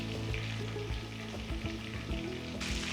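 Chicken pieces for Payyoli chicken fry sizzle in a pan of hot oil, a steady, dense crackle and spatter throughout with low background hum.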